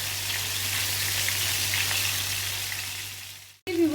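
Fish fries in hot oil in a pan on a medium flame, giving a steady, close sizzle and crackle that runs for several seconds before a sudden break and a brief clatter.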